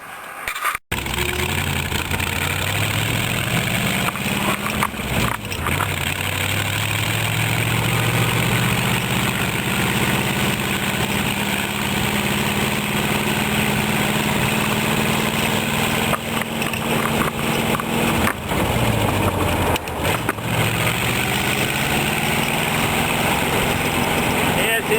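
A rat rod car with a Packard hood ornament runs along a drive, its engine droning steadily with low rumbling tones that rise and fall as it accelerates and eases off, loud and continuous throughout.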